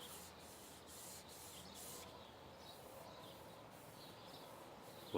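Steady scratchy rasping of sandpaper rubbing a flat primed MDF board, faint and continuous with rhythmic back-and-forth strokes, no voices.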